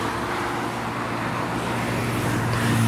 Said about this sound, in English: See the amount of traffic here trying to cross this road to get to that junction.